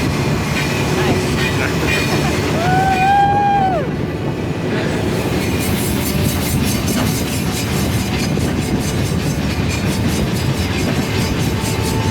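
A heavy iron ore freight train crossing the Sahara rolls past with continuous rumbling and rhythmic clacking, a brief metallic wheel squeal rising early on, loud and close.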